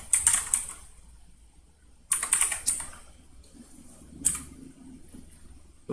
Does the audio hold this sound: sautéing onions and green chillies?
no